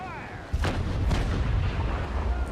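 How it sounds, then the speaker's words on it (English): Naval cannon fire in Naval Action, from the frigates Trincomalee and Belle Poule, a loud rolling broadside of booming shots starting after a brief quiet moment and continuing as a sustained rumble. "these shots are me showing off my piss poor aim"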